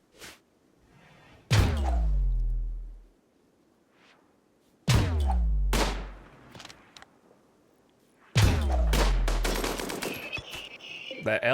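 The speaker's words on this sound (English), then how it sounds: "That LMG." Light machine gun fire in the RimWorld video game: three long, loud sustained bursts of rapid shots, each ending in a decaying tail, separated by near silence.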